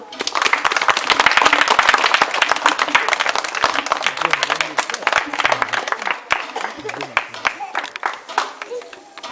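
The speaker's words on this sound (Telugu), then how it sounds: "చప్పట్లు కొట్టండి అందరూ." An audience claps for a sung Telugu patriotic song about India, loud dense applause that swells early and thins into scattered claps near the end, with voices talking beneath it.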